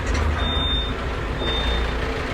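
A steady low rumble and engine drone fill a truck cab, constant throughout, with a faint high electronic tone appearing briefly.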